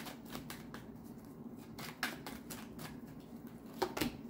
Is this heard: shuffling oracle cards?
yes